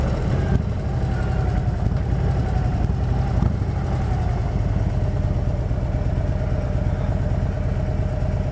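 A parked motorcycle idles steadily up close, its low, even engine throb running unbroken from start to finish with a light mechanical clatter on top.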